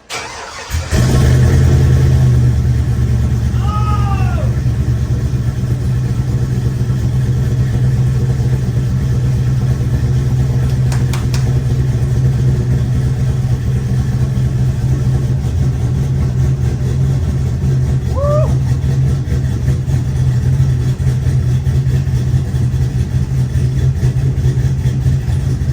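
Custom budget Cadillac Escalade with an exhaust cutout starts up and settles into a loud, steady, deep idle close by, with a couple of brief throttle blips breaking the rumble.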